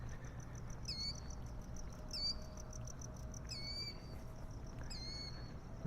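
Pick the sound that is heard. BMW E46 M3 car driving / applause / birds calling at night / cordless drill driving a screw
birds calling at night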